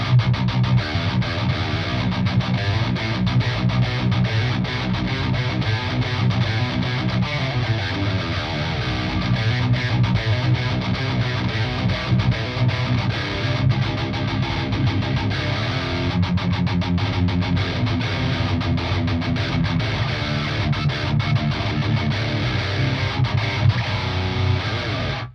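A continuous distorted low-gain electric guitar riff on a seven-string guitar plays at steady loudness with no audible reverb tail, sustained chords and notes ringing throughout.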